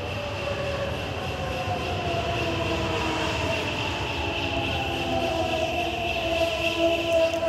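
A Cairo Metro Line 2 train runs at Faculty of Agriculture station toward Shubra El Kheima, giving a loud, steady rumble with sustained tonal whines and rail noise close by, with no talk.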